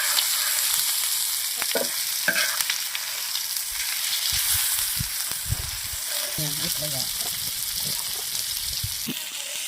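Fish sizzles and crackles steadily in a pan over a wood-fired stove, with occasional stirring scrapes and a few soft voices in the background.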